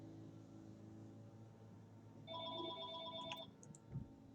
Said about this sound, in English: that's Mom's phone, so I'm not going to answer it